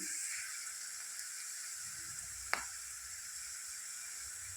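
Ingredients for a vegetarian curry frying in a pan: a faint, steady sizzle and hiss running throughout, with one brief clink midway and no talk.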